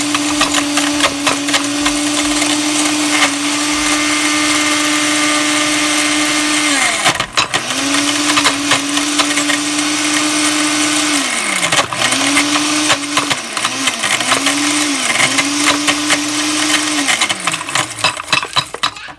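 An older blender grinds chunks of chaga mushroom with a loud, steady motor whine, cut by several brief pauses and restarts as hard pieces rattle against the blade.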